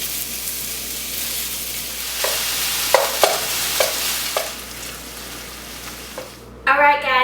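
Italian sausage browning in a pan gives a steady close sizzle with a few stirring scrapes and clicks, and a voice starts at the very end.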